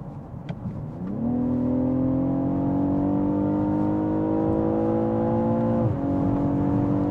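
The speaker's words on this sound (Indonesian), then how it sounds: "Raungan khas 6 silinder BMW-nya itu" A BMW X6 six-cylinder engine revs up and holds a high, steady drone for several seconds, then drops briefly and settles back, loud and close.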